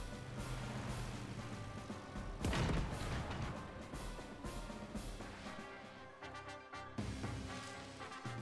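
Artillery fire in the video game Advance Wars Re-Boot Camp lands as a heavy blast over a dense, steady bed of game music, followed by a few softer thumps.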